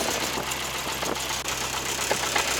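A 1960 Detroit Diesel 4-71 engine in a road grader turns over and runs, a steady close mechanical drone with rough knocking pulses throughout and no talk.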